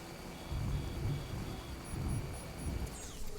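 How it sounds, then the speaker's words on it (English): Thunder rolling through the video game Death Stranding, heard as two deep, drawn-out rumbles that swell and fade across a steady wash of background noise. "Got rolls of thunder."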